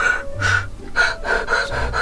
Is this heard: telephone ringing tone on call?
no